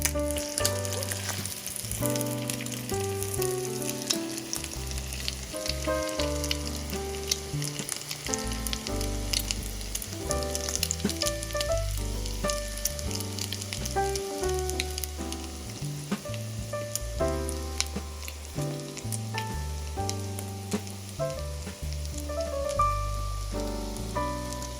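Slices of coconut French toast with a Vietnamese twist sizzle steadily in a hot pan, a dense continuous crackle over roughly twenty-five seconds with no one talking.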